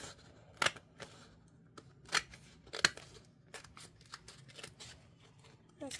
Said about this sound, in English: I'm just going to cut it in half.